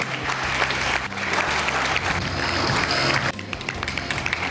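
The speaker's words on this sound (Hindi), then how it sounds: "जोरदार तालियों।" Sustained audience applause at a student felicitation ceremony in India, dense steady clapping from a large crowd that runs the whole stretch and briefly dips before picking up again.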